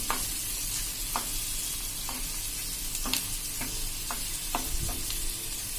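Garlic lightly browning in hot oil for a curd sabzi, with a steady sizzle and a spoon scraping and stirring the pan at a regular pace, close and alone with no talk.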